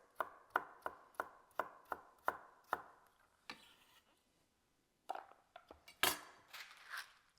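A knife chops a small piece of carrot on a board in quick, evenly spaced strokes, about seven close, crisp knocks, then a pause and a few scattered clatters of utensils.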